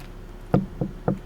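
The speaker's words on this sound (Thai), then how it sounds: "ใครเคาะประตูฮะ" Three sharp knocks on a door in the video game Security Booth, close and distinct, spaced evenly over a quiet low background hum.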